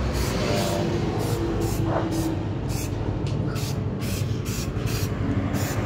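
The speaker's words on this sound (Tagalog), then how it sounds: "Sprayan po natin yung mga may kalawang na yan." Aerosol spray paint is applied to rusty parts of a motorcycle under repair, heard as repeated short hissing bursts in a steady rhythm over constant loud background noise.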